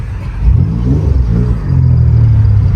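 A turbocharged Acura TL Type S accelerating hard on a pull, a deep, loud engine rumble swelling and climbing in pitch for a few seconds, heard from inside the car without talk.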